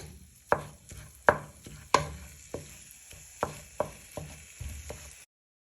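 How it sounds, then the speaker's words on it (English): Mince fries in a pan while a utensil stirs and breaks it up, sharp scraping knocks landing every half second or so over a low sizzle, close and alone. "then just keep stirring it for a few minutes"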